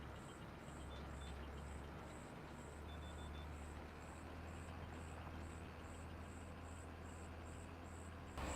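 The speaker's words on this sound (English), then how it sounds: "get rid of the damn crickets that are just chirping the crap out of my" Crickets chirping as ambient sound in the Farming Simulator 25 video game, a steady rhythmic string of regular chirps repeating throughout over a low engine-like hum, faint overall.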